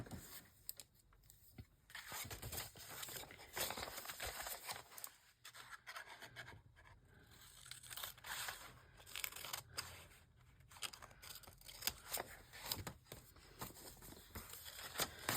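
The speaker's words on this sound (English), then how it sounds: "I'm going to trim these flaps back a bit because I think they're quite big." Scissors trim the deep flaps of paper envelopes, with steady crisp snipping and rustling paper running close and continuous throughout.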